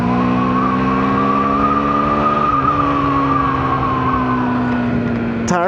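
A Hero Xtreme 160R FI ABS motorcycle rides at speed, giving a loud, steady engine drone with a smooth tone and a slight pitch shift midway, under constant wind rush.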